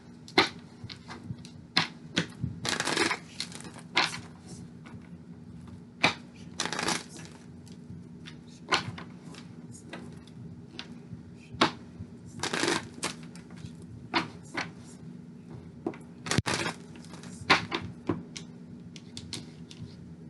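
Tarot cards are shuffled by hand in a quiet room, soft riffling and flicking bursts coming in irregular clusters with short pauses between them, fairly faint and close, no voices.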